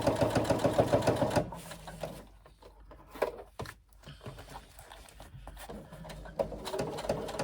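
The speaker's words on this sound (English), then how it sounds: "Just stitching slowly at that point, then I can speed up as I get further." A sewing machine stitches slowly along a backpack panel, a rapid mechanical chatter for the first second and a half, then quieter intermittent clicks and handling noises.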